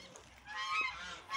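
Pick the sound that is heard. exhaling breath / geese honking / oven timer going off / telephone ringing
geese honking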